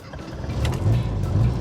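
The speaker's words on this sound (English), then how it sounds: "Oh no, the engine has died!" The engine of a tiny British right-hand-drive car rumbles low and uneven close by, then sputters and fades as it stalls, with no voices.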